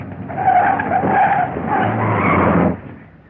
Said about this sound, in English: Stop the car, quick!